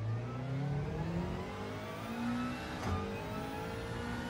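A race car on the Red Bull Ring circuit sustains a loud, continuous engine drone heard from on board, its pitch sliding down and climbing again as it brakes and accelerates, with no talk.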